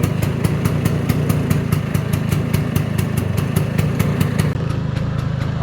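A 1979 Vespa scooter's small engine drones steadily and loudly while riding, with a fast even buzzing pulse and wind rumble throughout, no talking.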